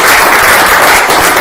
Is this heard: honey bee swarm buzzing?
no